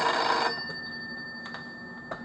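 An old telephone bell rings loudly at first, then cuts off, leaving faint, brief ringing tails and a quiet room.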